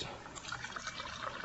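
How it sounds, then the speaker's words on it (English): Cabo Wabo 100% agave tequila poured straight up, a soft continuous liquid trickle and fill running steadily and close for the whole stretch, fairly quiet, with no talk over it. "you pour it straight up like this."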